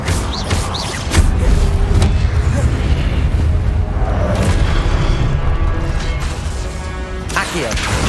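Fiery spell blasts from Hogwarts Legacy combat, a loud sustained roar of booming impacts and crackling bursts that runs almost without a break, with a voice heard briefly.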